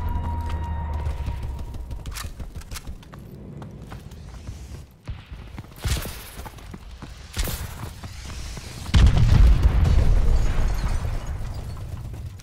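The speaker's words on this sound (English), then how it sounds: "Friendly missile strikes incoming." Missile strikes exploding across a Call of Duty: Advanced Warfare battlefield, a few deep booming blasts spaced apart over mechanical game sounds, with the loudest impact near the end.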